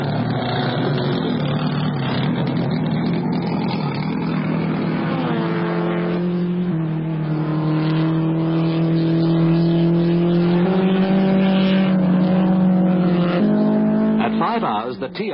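A race car pulling away from a pit stop, engine revving up through rising gear changes to a loud, sustained roar, with a commentator talking over it.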